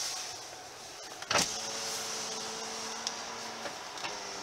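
The automatic power window on the driver's side of a 2016 Toyota RAV4 Limited Hybrid closes with a faint, steady electric motor whir, a small thunk near the start and light ticks as it travels, heard close inside the cabin.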